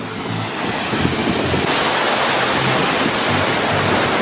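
The El Chiflón waterfall in Chiapas, Mexico roars close by, a loud, dense, continuous rush of falling water with gusts of wind buffeting the microphone.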